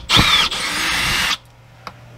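A power drill backs screws out of an RV window frame during seal replacement, giving one loud high whine lasting about a second, then a short quiet pause and a small click.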